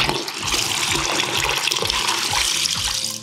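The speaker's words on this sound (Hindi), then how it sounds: "तो हमको वाटर लेवल मार्क तक पानी भरना है।" Water poured from a mug into a sitz bath fountain tub, filling toward the water level mark. Close, loud, splashing gush with rhythmic pulses, about five or six surges of pouring, each with a low thump, in continuous bursts.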